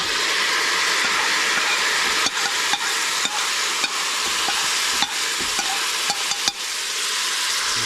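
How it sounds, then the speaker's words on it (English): Collard greens stirred in a hot cooking pot, steady sizzle under repeated scraping and clinking strokes of a utensil against the pot. "Stir it around a little bit."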